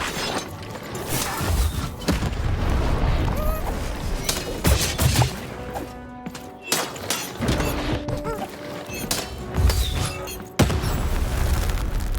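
A cannon fires in the video game Lost in Random, a series of heavy booms and crashes amid busy game sound effects and music.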